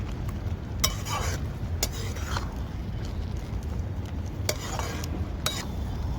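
Grated pumpkin and jaggery stirred in a pan as they cook, a steady close sizzle and rustle with scattered sharp clinks of a metal spoon against the pan.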